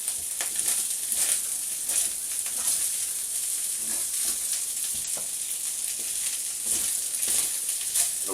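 Oil heating in a wok ahead of plain rice, giving a steady close sizzle and hiss with faint crackles throughout, no voices.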